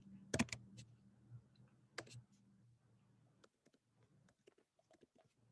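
Computer keyboard typing: a quick cluster of sharp key clicks at the start, another burst a moment later, then scattered lighter taps trailing off into quiet.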